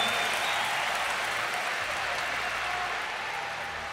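A crowd at an esports tournament applauds in a dense, steady wash of clapping that stays loud and even throughout, with no talk over it.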